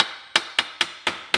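Light hammer taps dressing an oxy-acetylene weld on mild steel, five sharp metallic strikes at an even, unhurried rhythm, close and clear with quiet gaps between them.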